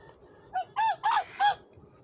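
Several loud goose honks in quick succession, nasal and close, after a quiet start, with one shorter call leading into three strong ones.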